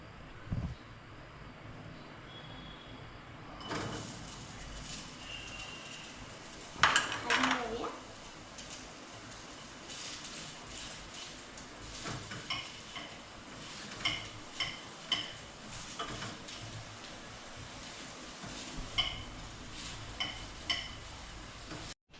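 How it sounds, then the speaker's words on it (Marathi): Onion being stirred in a pan for a prawn rice dish, mostly clinks and scrapes of a metal spoon against the pot at intervals, with only a faint sizzle underneath. "आता आपण कांदा भाजून घेऊया."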